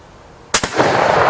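A rifle firing Turkish 155 grain rimmed cartridges lets off a single sharp, loud, close shot with a quick echo, followed by a lingering rumble of reverberation.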